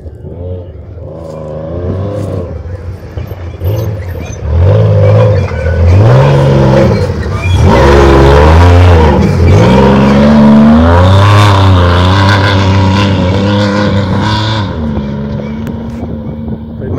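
A Class 7 off-road race vehicle at the Baja 400 desert race tears past near El Mezcal. The engine is loud and close and swells as it passes, with shifting revs and wind noise, and spectators talk faintly underneath.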